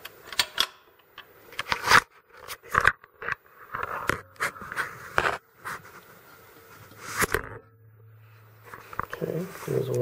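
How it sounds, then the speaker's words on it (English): Glass vials of sterilized media for plates and slants have their caps screwed tight one after another, giving sharp irregular clicks and scrapes close by, with brief quieter gaps between them. "I'm going to grab each vial and I'm going to tighten the cap on them"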